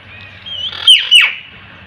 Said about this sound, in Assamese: ইয়াৰ ভিতৰত দেখিছোঁ এয়া আছে পাহাৰীয়া মইনা